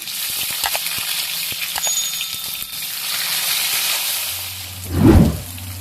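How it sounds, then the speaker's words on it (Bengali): Chopped tomato hits a hot pan of frying vegetarian chickpea and cucumber curry base, a steady sizzle swelling into a loud, brief hiss as the tomato goes in, heard alone without talk. "এবার দেখুন ভাজা হয়ে গেছে দিয়ে দিচ্ছি টমেটো কুচানো"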